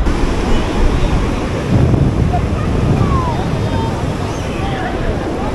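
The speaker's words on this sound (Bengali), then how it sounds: "সমুদ্রের ঢেউ খুব ভালো" Sea waves break and wash up on the beach at Tajpur in a steady, loud roar, with wind buffeting the microphone and faint crowd chatter in the background.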